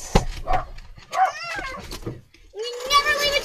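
A puppy barks in short yips and then whimpers in a rising whine, close and loud, while children shout and talk over and between the dog sounds.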